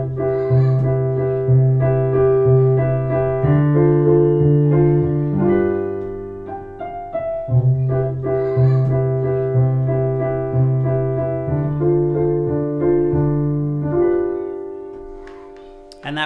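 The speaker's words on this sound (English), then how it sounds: "I put it on the piano and ended up with something." A bossa nova chord progression played on piano in a changed time signature: warm, lilting chords over a low bass pattern that repeat in two long phrases. It sounds close and continuous, with no talking.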